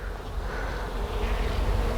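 Honey bees swarm around an exposed hive in Donna, Texas, during a hive removal, producing a dense, continuous buzz close to the listener.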